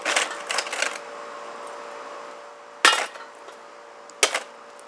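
A Gerber LMF II knife tip stabs into a small camper propane tank, a quick cluster of metallic taps and then two sharp, isolated impacts a second or so apart, close and fairly loud.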